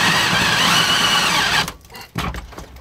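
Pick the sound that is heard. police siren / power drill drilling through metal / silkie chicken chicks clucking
power drill drilling through metal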